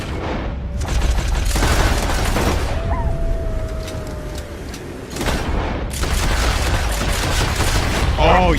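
Pistol shots fired in the western game Red Dead Redemption 2, several loud cracks in irregular bursts with a quieter gap in the middle, backed by game ambience.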